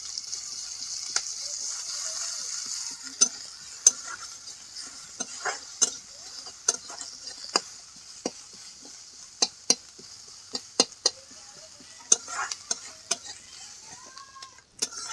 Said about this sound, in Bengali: পেঁয়াজগুলোকে লাল লাল করে একসাথে ভেজে নেব।